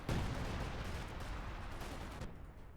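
Artillery fire in a World War II real-time strategy game battle, a heavy explosive boom followed by a rumbling, sustained barrage of blasts and crackling gunfire, loud and dense throughout.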